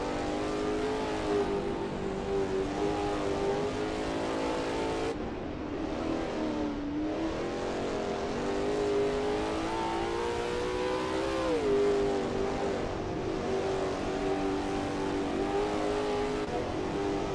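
A Lola T70 MkII Spyder race car at Kyalami 1967 in a racing game holds a loud, close engine drone throughout. Its pitch dips and climbs with gear changes and throttle through a corner, with no talking over it.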